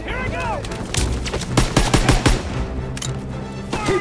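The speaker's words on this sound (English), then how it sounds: "Lay down fire on that MG!" Machine gun fire rattles in Call of Duty: WW2, with loud, rapid bursts and single gunshots close by across the whole stretch, and faint in-game voices under the shooting.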